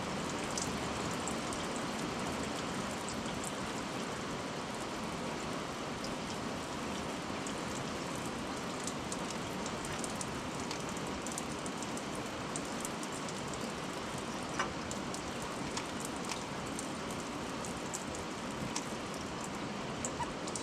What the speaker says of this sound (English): Like a lot of fuel still coming through there.